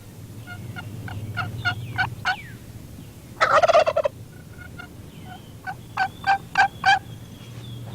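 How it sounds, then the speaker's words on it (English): A wild turkey gobbles in several rapid, rattling bursts, with a louder close gobble in the middle and more calls after, over a low steady background hum. "I've been talking to that gobbler all morning, but I guess that's one turkey I just can't fool"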